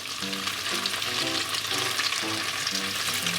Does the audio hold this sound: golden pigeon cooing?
no